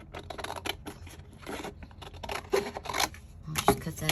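Scissors snip through paper for a journal cover, a series of short crisp cuts and rustles close by. The snips come in irregular bursts, fairly quiet, with no talking over them.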